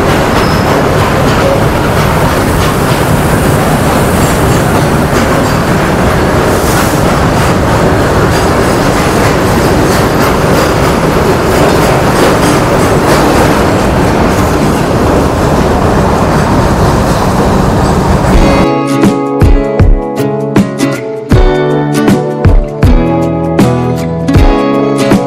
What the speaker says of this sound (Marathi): इकडे आली आहे पुणे ते नांदेड एक्सप्रेस